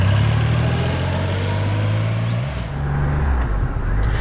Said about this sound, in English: rev it in neutral. It has a deadener, so you can only rev it like this.